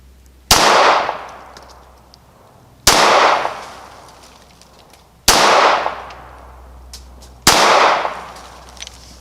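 Four loud, sharp gunshots from a Ruger Security 9 pistol at a shooting target, evenly spaced about two seconds apart, each with a brief ringing decay, no talk.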